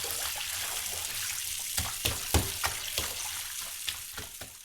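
A bathtub filling with water for a bubble bath: a steady rush of running water heard alone and close, with a few small sharp splashes and knocks scattered through it.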